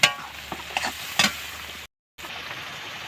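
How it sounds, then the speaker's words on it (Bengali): A spice paste of turmeric and other ground spices fries in oil for a chicken dish, a low steady sizzle broken by a few scraping stirs of a spatula early on, close and moderate, then cutting to a quieter sizzle after a brief silence. "এবার এটাকে আমি ভালো করে তেল ছাড়া অবধি কষিয়ে নেব"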